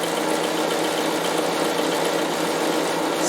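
Bernina sewing machine running a continuous satin stitch along the edges of a fabric square, a steady, even mechanical whir held at constant speed for a few seconds with no pauses.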